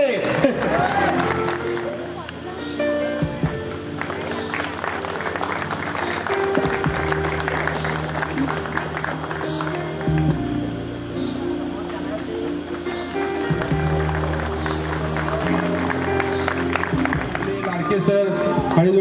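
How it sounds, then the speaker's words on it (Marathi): At an SSC batch 2001/02 reunion at Gadhinglaj High School, a crowd applauds for teacher A.V. Patil, clapping blending with loud tonal music and someone speaking over it throughout. "खूप खूप टाळ्या मित्रांनो"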